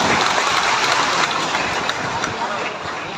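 Audience applause at an outdoor public ceremony, a loud continuous clatter of clapping from a large crowd, steady throughout with voices mixed in.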